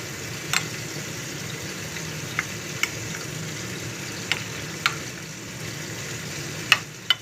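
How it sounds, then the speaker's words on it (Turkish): A spoon stirs crushed garlic into yogurt in a kitchen, making a soft wet churning with scattered light clinks against the bowl over a steady sizzle of eggplants cooking nearby. "Sarımsağımı soydum, ezdim, yoğurdumun içerisine koydum. İyice karıştırıyorum."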